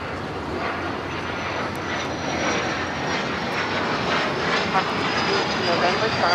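A Cathay Pacific jet airliner rolls for takeoff on the runway at LAX, its engines giving a broad steady roar that slowly builds, with air traffic radio voices heard over it.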